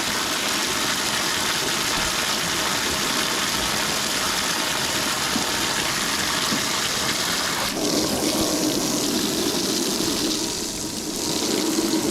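Water gushes and splashes steadily while being filled for thirsty farm animals, a loud continuous rush that shifts in tone partway through, with no voices.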